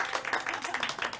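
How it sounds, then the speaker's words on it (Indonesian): A classroom group claps for a student during a history microteaching lesson, a short burst of scattered hand claps close by, fairly quiet, with a hint of voices mixed in. "kita kasih tepuk tangan buat Mbak Eli."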